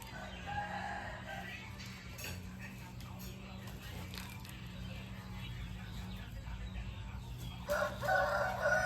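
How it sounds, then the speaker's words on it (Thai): A fighting-bred rooster crows at a poultry farm, its calls rising above a steady low hum and background talk, with a louder burst near the end. "ไก่เลี้ยงชนได้ทำสายได้นะครับ สวยมากครับตัวนี้"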